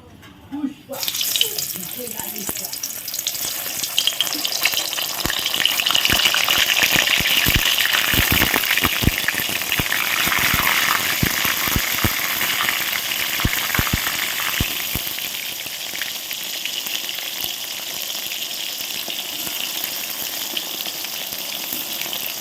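Eggplant pieces drop into hot oil in a wok and burst into a loud, sputtering sizzle that crackles sharply at first, then settles into a steady frying hiss.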